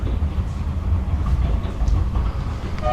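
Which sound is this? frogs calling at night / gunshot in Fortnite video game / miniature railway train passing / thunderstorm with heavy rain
miniature railway train passing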